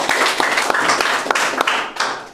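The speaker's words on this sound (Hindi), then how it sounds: "तो क्यों ना हम अपने खुद के लिए ताली बजा सकते हैं परमेश्वर की महिमा के लिए।" A church congregation claps during a Sunday evening service, with crisp, fairly loud hand claps in an uneven rhythm and a few sharper individual strikes over a sustained clapping texture, fading slightly toward the end.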